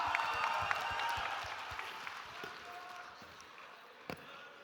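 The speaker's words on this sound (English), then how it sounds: "Can we have a big round of applause for Kapil here?" An audience applauds after a tongue twister contest at an evening event, clapping loudly at first and then gradually thinning out, with a few sharp knocks and faint crowd noise underneath.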